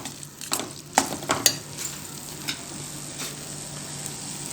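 Gooseberry (amla) thokku pickle paste with chilli powder cooking in oil in a pan, stirred with a few scraping strokes and soft crackles over a faint steady sizzle, close and fairly quiet.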